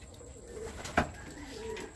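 Racing pigeons coo softly at close range, a low murmuring coo with one sharp wing flap or knock partway through and faint background noise.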